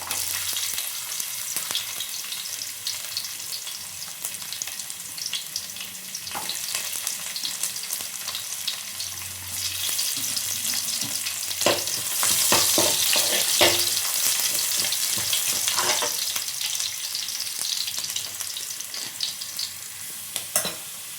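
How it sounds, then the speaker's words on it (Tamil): Ginger and garlic sizzle steadily in hot oil in a pan while cooking Kerala-style fish curry, a continuous close frying hiss with scattered crackles and louder spitting bursts midway, no voices. "இஞ்சி போட்டுக்கிறேன். பூண்டும் போட்டுக்கிறேன். ரெண்டும் கொஞ்சம் வதங்கட்டும்."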